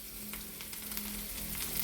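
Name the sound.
remaining half onion frying for tempering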